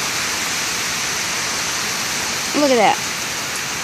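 Heavy rain pours down steadily outdoors, a loud, even hiss filling the whole stretch, with someone speaking briefly over the downpour near the end.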